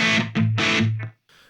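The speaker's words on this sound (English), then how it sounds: "So F1, a distortion patch." Two short bursts of heavily distorted electric guitar chords from a Zoom 505 effects processor distortion patch ring out with saturated fuzz, followed by a brief pause and a faint trailing tail.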